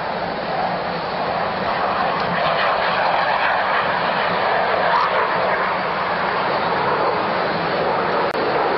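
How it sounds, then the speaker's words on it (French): Continuous roar of an airplane passing overhead, loud and steady for several seconds, with no voices. "les avions ne cessent plus maintenant de survoler le central de Frédéric"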